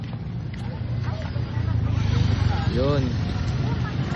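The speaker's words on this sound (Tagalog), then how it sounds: "Ayan na po yung mga nakamotor, nagsisidatingan na" Several motorcycles arrive together: a steady low engine drone builds and one rising-then-falling engine pass stands out midway, all under continuous talking.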